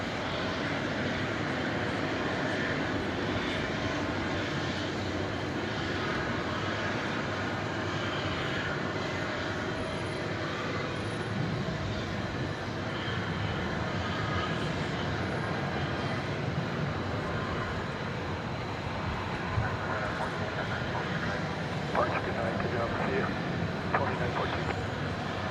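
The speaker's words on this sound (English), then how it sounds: "a dozen planes lined up to take off" A steady, distant jet roar of airplanes taking off at DFW Airport in the evening, a broad continuous rumble with a voice talking throughout.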